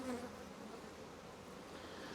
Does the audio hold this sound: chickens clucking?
no